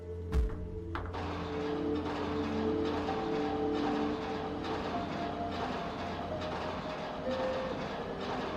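A tram in the video game OFF rumbles along its track with a steady rolling drone and faint rhythmic clatter, starting with a sharp mechanical clunk and holding a moderate, even level throughout.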